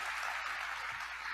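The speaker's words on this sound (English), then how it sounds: "that deserves a little bit of applause" An audience at a medical lecture on cancer CAR T-cell therapy bursts into steady, dense clapping that fills the room evenly throughout, with no voices rising above it.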